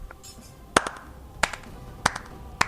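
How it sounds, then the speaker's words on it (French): Four sharp, isolated hand claps spaced roughly evenly apart, close and fairly loud, ringing out alone in a quiet room with no talk. "Puis, un applaudissement retentit."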